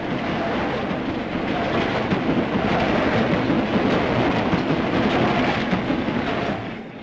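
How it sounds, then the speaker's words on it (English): A London Transport train from around 1950 rumbles steadily past on the track, loud and close throughout, with a continuous roar that eases slightly at the end. "When a train approaches, he turns to face it and stands motionless until it has passed."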